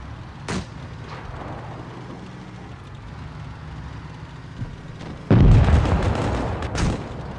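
Tank cannon fire in World of Tanks Blitz: a sharp shot near the start, then a much louder heavy blast with a rumbling decay, all over a steady low engine drone, with no talking.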